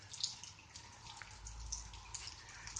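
Rain drips onto a patio on a quiet, rainy Sunday, with faint, scattered drops and small splashes over a soft, steady wash of water.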